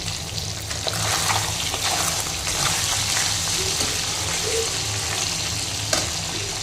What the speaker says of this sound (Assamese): ইয়াত মাগুৰ মাছ আৰু শিঙি মাছ ফ্ৰাই কৰি আছোঁ